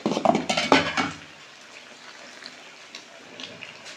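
Battered chicken pieces dropped one by one into hot oil, with a cluster of loud close clatters and splashes at the start, then a quieter steady sizzle continuing alone.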